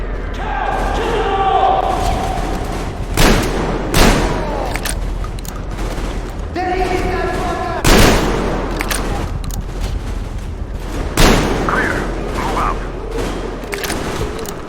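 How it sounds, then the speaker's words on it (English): A shotgun fires in Metro Exodus, several loud, sharp blasts spaced a few seconds apart, each with a brief mechanical rack, over background combat noise and chatter. "Let's try the shotgun."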